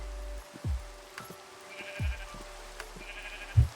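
Several short, low sheep bleats from a blocky video game world, spaced a second or more apart over faint ambient background, the last one loudest and nearest.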